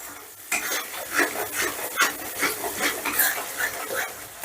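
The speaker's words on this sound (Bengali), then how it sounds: "এবারে মশলাটাকে আমি বেশ ভালো করে কষে নেব" Spice masala being stirred and fried in a pan for paneer malai curry, with repeated scraping strokes of a spoon against the pan in a steady rhythm over a soft sizzle, close and fairly loud.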